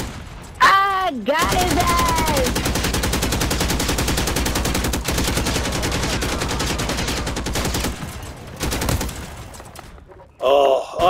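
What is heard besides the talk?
pistol gunfire in a video game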